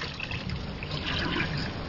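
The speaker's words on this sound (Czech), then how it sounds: "můžeme vodní dýmku vyjmout z octové lázně a vymít čistou vodou, aby se zbavili zbytkového zápachu" Clean water runs and splashes continuously as a hookah is rinsed after soaking in a vinegar bath, close and fairly loud.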